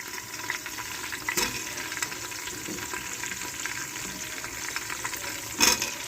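Onions frying in a pan for khushka biryani give a soft, steady sizzle at moderate distance, broken by a couple of brief clatters from stirring, with no voices.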